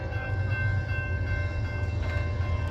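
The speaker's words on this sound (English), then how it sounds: "Got a train coming." A train approaching in Ashland, Kentucky, a heavy rail consist rolling with a steady low rumble and faint tonal squeal, loud and continuous throughout.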